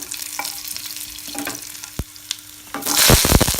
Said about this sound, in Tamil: இது நல்லா கொஞ்சம் ஃப்ரை ஆகிடுச்சுங்க. பூண்டு ஃப்ரை ஆகிடுச்சு.